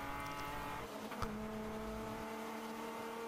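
A race car in a ChampCar endurance race at MSR Houston drones steadily with harmonic engine tones, shifting up cleanly partway through with a brief dip and jump in pitch, continuous and fairly close, with no talk.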